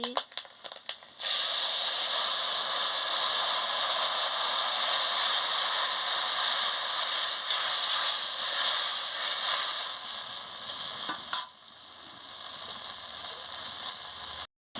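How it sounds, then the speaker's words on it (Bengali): After a few soft taps, tamarind water hits a hot tempering of dried red chillies and spices with a sudden loud, sustained hissing sizzle that fades only slightly over the following seconds. "বন্ধুরা শুকনো লঙ্কা আর ফোড়নটা এর সঙ্গে আমি ভাজিয়ে নিচ্ছি ভেজে নিচ্ছি দিয়ে এবারে আমি তেঁতুল গোলার জল দিয়ে দিচ্ছি"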